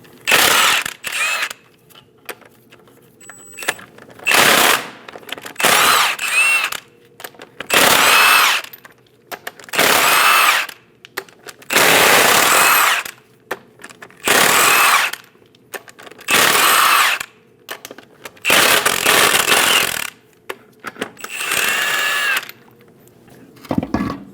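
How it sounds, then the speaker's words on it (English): Impact wrench with a 22mm socket spins off the eight lug nuts from a 2001-2006 Chevrolet Silverado 2500 HD front wheel, loud repeated whirring bursts of a second or two separated by short silent gaps. "Using a 22mm socket, remove all 8 lug nuts."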